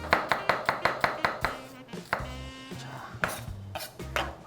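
A single onion being chopped with a knife on a cutting board, a quick run of evenly spaced sharp thuds that breaks into scattered, irregular cuts and scraping sounds, close and clear, with no voices.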